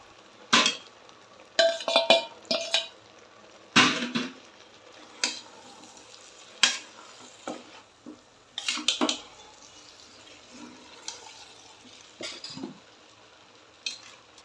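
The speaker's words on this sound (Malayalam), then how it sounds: "ഇനി അതിലേക്ക് കഷ്ണങ്ങൾ ഇട്ടുകൊടുത്ത് നന്നായി മിക്സ് ചെയ്യുക." Undhiyu vegetable pieces being stirred and mixed in a pot for traditional Gujarati undhiyu, with irregular spoon clatters and scrapes against the pot and short quiet gaps between them.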